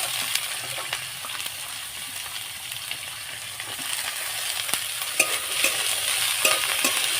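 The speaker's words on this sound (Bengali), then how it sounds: "বিনস একটু ভেজে নেব, বিনসটা। এবার ফুলকপিগুলো দিয়ে দেবো।" Beans and cauliflower fry in a pan with a continuous sizzle. Scraping stirs and light clinks of a spoon recur throughout, growing slightly louder toward the end, with no voices.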